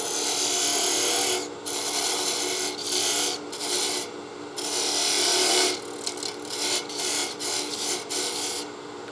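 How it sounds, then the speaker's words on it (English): Wood being parted down on a lathe with a parting tool while turning a salt and pepper mill: a raspy, scraping cut that comes in uneven bursts, with short pauses between passes. "we can part that down just a little bit to give ourselves room for our skew"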